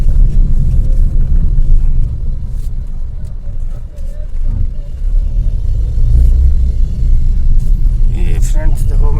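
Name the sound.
Maruti WagonR car engine while driving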